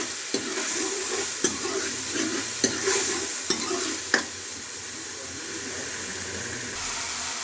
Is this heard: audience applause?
no